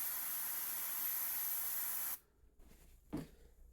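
Gaahleri airbrush spraying paint in a steady, loud continuous hiss for about two seconds, then cutting off abruptly to near silence with a faint thump.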